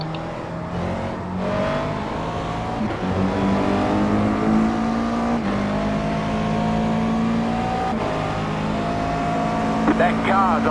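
A GT race car in iRacing at Silverstone, a loud steady engine drone with shifting revs and a passing car near the end, under a speaking voice.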